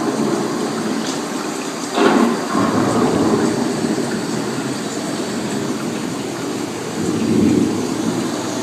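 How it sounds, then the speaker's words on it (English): Thunderstorm on the Living with the Land ride at Epcot, with steady rain hiss throughout and a rolling rumble of thunder near the start and again toward the end, no talking. "The approaching storm may seem violent and destructive to us"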